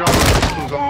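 Gunfire in an online shooter video game: a rapid burst of shots close and loud, fading into a ringing tail, with a voice under it.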